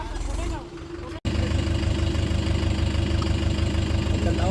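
Mahindra and Swaraj tractor engines, a 4x4 pulling a stuck tractor free, run loud and steady with a deep rumbling idle, briefly cut out before roaring back; voices talk over the engine noise.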